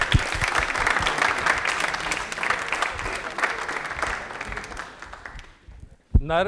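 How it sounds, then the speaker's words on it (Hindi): A studio audience at a televised quiz show gives a prize winner loud, dense applause that dies away after about six seconds before a voice cuts in. "तालियां बजा देगा खुशी के लिए जोरदार वाला"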